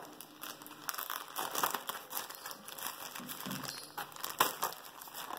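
Packaging for a SuperD D1 being torn open during an unboxing, a steady close-up run of crinkling, crumpling plastic and paper with sharp tearing bursts and no talk.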